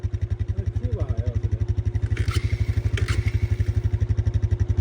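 A kick-started Honda motorcycle idling up close on a cow farm, a steady, rapid, even thumping of the engine throughout, with a few brief clanks and a faint voice-like warble partway through.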